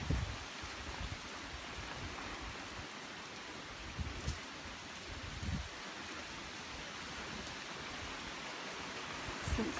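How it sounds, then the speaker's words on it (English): Rain falls on a camp on the Appalachian Trail, dripping through netting in a constant soft wash, with scattered heavier drops and low thumps spread through it. "it's been raining since midnight."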